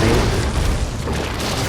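An explosive detonating in Resident Evil 7 Biohazard on PS5, a loud, dense, rumbling blast that fills the whole moment.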